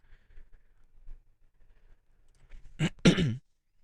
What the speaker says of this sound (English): I am really sorry about the coughing